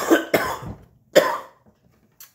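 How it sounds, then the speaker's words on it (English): Three harsh, close coughs in quick succession, brought on by pepper burn, the last one a touch stronger, followed by a faint small throat sound. "There go the cough."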